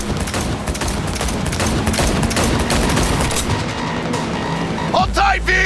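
Continuous loud gunfire during a car chase shootout in Cyberpunk 2077 on PlayStation 4, rapid automatic bursts over a rumbling engine, with shouted voices near the end.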